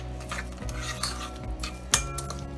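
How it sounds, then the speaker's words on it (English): A utensil stirs dessert ingredients in a bowl, with soft scraping and light clinks against the dish over a few seconds and one sharper knock near the end, close and quiet, no talk. "Just gonna stir these to combine them."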